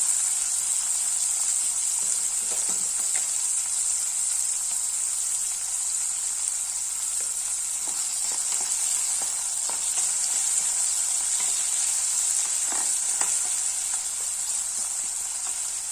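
Tomato cooking down with a little salt in a hot pan for a South Indian bottle gourd rice tiffin dish: a steady, even hiss of sizzling, close, with a few faint clicks and stirring touches, no talking.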